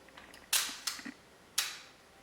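Several sharp mechanical clicks of a Zeiss Ikon Contaflex IV camera shutter, spaced irregularly in a quiet setting, crisp and close, some at a quarter-second shutter speed.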